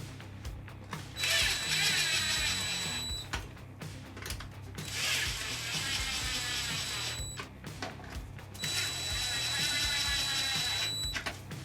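Three bursts of an electric screwdriver driving screws into the plastic front end of a DBXL-E 2.0 RC car, each a close whirring buzz lasting a couple of seconds, separated by brief pauses.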